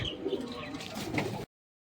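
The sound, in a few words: pigeons cooing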